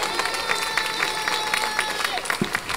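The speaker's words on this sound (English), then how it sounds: "A round of applause" Audience applause at a Columbus Day celebration for the Italian-American community, a steady wash of clapping from a crowd, fairly dense and continuous throughout.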